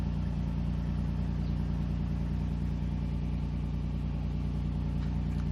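A 2006 Chevy Equinox engine runs after a motor swap, a steady low idling rumble with an even, continuous drone that neither rises nor falls across the whole stretch.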